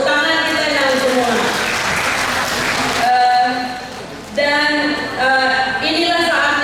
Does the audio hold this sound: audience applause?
yes